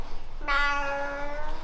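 A single cat gives one clear, drawn-out meow, close and fairly loud against a quiet background, with no talking.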